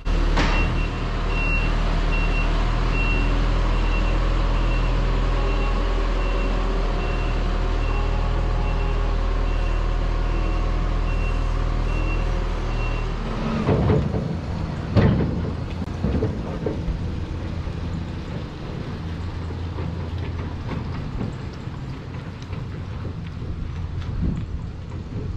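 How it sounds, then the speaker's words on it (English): A telehandler works while offloading bales, its diesel engine rumbling heavily under a steady series of reversing beeps for about half the time; the engine then cuts out, leaving scattered clanks and knocks. "So I'll leave you with the teleporter sounds"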